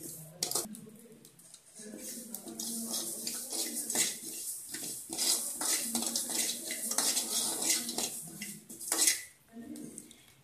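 Finger millet (ragi) grains being roasted dry in a metal pan on a stove, with a spatula scraping and stirring in irregular clattering bursts, close and fairly clear, with a voice talking now and then.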